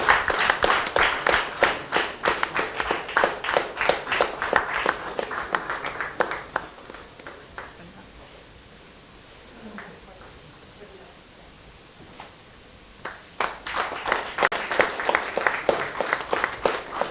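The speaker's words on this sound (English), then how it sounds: "please give a loud round of applause for Team Champions of the East Zone" A crowd applauds a banking quiz team at a national finals event, with loud dense clapping for about six seconds, a quiet gap, then another strong burst of applause near the end.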